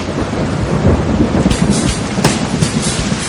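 Steady heavy rain pours outside a cabin, a dense continuous hiss with low rolling thunder beneath, loud and close throughout.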